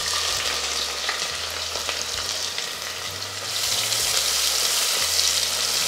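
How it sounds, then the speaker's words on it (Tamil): Whole spices, cardamom, cinnamon, star anise and cloves, fry in hot oil for a quail biryani cooked in a pressure cooker, giving a steady close crackling sizzle with faint stirring clinks and no talking. "இப்போ இந்த எண்ணெய் காய்ஞ்சதும் ஒரு 4 ஏலக்காய், 2 பட்டைத்துண்டு, ஒரு 3-4 ஸ்டாரு, ஒரு 10-12 கிராம்பு சேர்த்துக்கிறேன்."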